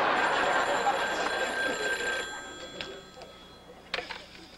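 A bright, rapid telephone bell rings continuously for a couple of seconds, then fades into faint clinks and a short metallic rattle.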